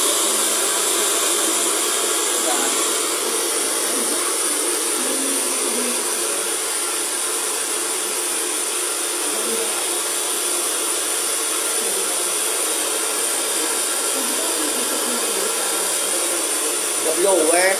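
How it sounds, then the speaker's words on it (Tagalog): A blower runs continuously, a loud, steady, broadband roar that holds level from start to finish and swells briefly at the very end, close by and drowning out everything else. "The blower."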